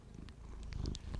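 A cat purrs close by as a low, steady rumble for about a second, with brief small clicks and rustles on top.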